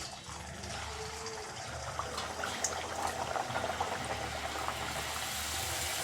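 Puri dough frying in hot oil produces a steady bubbling, boiling hiss with small pops, moderately loud and continuous with no voices.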